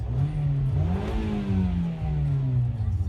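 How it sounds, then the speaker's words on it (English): A car engine revved during an under-the-hood inspection, a loud close run that climbs in pitch, eases back and climbs again over about three seconds. "rev it up for you guys."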